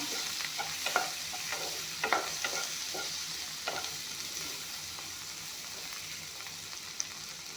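Onion frying in a pan, a steady hiss of sizzle broken by a few scraping stirs near the start, with no voices.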